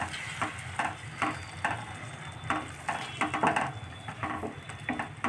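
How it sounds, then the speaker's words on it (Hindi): Masala of turmeric, red chilli and salt fries in oil in a pan for a soya chunks dish, a close, steady sizzle broken by quick rhythmic scrapes and taps of a spoon stirring. "3 से 4 मिनट तक इसको भी अच्छे से भूनना है, जब तक इसके ऊपर तेल नहीं आ जाता"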